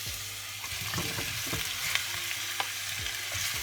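Tofu pieces drop into a hot pan and fry for a vegan peanut-sauce mafé, a steady close sizzle with soft scrapes and knocks of stirring throughout.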